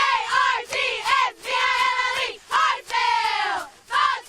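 Cheerleaders for the Hartsville Red Foxes chant a spelled-out team cheer in unison at a football game. Several loud rhythmic shouted bursts are separated by brief pauses.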